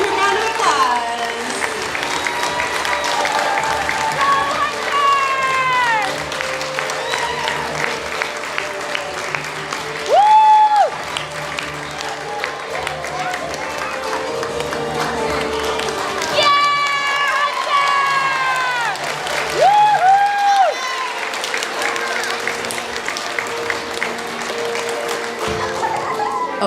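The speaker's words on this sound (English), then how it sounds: "Give him a round of applause." A fifth-grade farewell assembly crowd of children and adults applauds and cheers loudly for an award winner, with high excited shouts and whoops bursting out repeatedly over sustained clapping and chatter.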